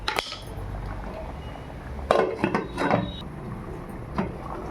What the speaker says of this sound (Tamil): இப்போ மாங்காய் கொஞ்சம் நல்லா வேகிற வரைக்கும் கொஞ்சம் மூடி போட்டுடலாம்.